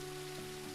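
Rain falling in the video game Teddy's Haven makes a steady, even hiss throughout, with a faint tonal hum running underneath.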